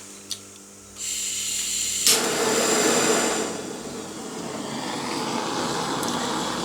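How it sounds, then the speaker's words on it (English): A torch flame roars to life over an acrylic paint pour, a broad steady rushing hiss that starts abruptly, swells briefly, then settles into a softer continuous blow close by. "let me give that a torch"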